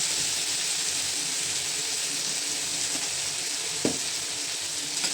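Tomato and potato bhaji sizzles steadily in a pan, a soft continuous frying hiss with a faint clink of stirring near the end.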